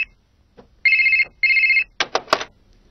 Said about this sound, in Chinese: 我这边有电话，一会儿再打给你。